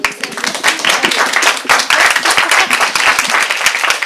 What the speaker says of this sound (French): On applaudit Rémi